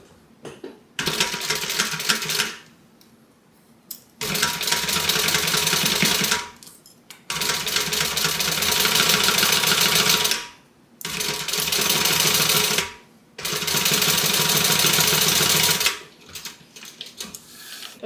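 A sewing machine top stitches the seam of a tote bag in four long continuous runs separated by short pauses, the motor hum and needle chatter steady and close.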